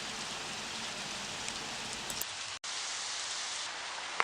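Steady rain falls throughout on a wet day in Cheongju, a dense, even patter with a brief dropout partway through, no voices heard.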